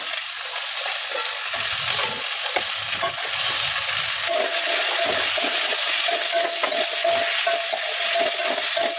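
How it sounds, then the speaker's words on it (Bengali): Diced potatoes are stirred into spice paste frying in a pan for a prawn and potato curry. A steady, close sizzle runs throughout with scraping stirring sounds, and no one speaks. "এবার আলুগুলো দিয়ে দেবো, কেটে রাখা ছোটো ছোটো করে আলু দিয়ে দেবো।"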